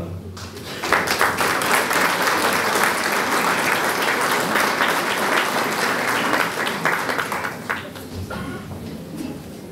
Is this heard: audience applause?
yes